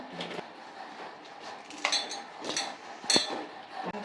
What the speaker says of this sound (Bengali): আর একটু হলুদ গুঁড়ো। এটা চটকে নেবো।